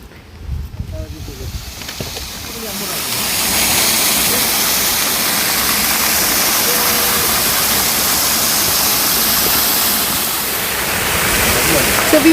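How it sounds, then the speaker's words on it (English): A waterfall in Cherrapunji, Meghalaya, pours in a loud, steady broadband rush after a few seconds of quieter rustling at the start. "So we have found the first Wakaba waterfall"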